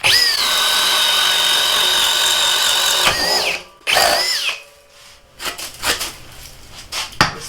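Metabo HPT 36V cordless hammer drill boring a 1 inch spade bit into wood: loud, close whirring bursts that bog and rise, a short pause, then a second run and several brief stop-start triggers.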